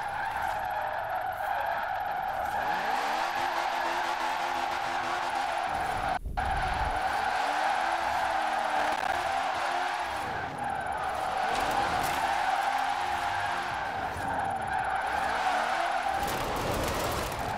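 A Citroën 2CV drifts through corners in a racing video game, its small engine droning steadily with wavering tire skids and squeals running under it across the whole stretch, with one brief sharp break midway.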